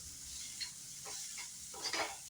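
Chopped potatoes tipped into onions frying in a pan for an egg yolk keema curry, giving a low steady sizzle broken by a few soft stirring scrapes, fairly faint and close.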